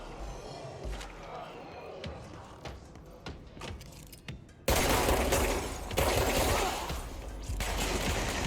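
Gunfire in the action game Control, scattered shots early on, then a sudden burst of loud continuous firing and impacts that dominates the second half.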